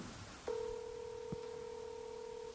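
A phone dials out a call with a sustained two-tone dialing signal that starts abruptly and holds steadily, with a brief click partway through, heard alone without talk.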